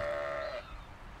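A sheep in the video game Arcania bleats once, a clear wavering call in the opening half second that fades out, with quiet game ambience after.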